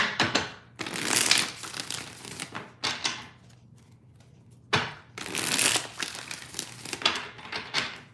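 Tarot cards shuffled by hand in repeated riffling bursts, crisp and close, with short pauses between several rounds of shuffling.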